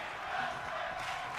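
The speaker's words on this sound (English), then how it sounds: "the crowd with a tag team wrestling chant here" Virtual arena crowd in WWE 2K23 keeps up a steady, dense roar of massed voices during a tag team wrestling match, with chanting blended into a continuous wash and no single voice standing out.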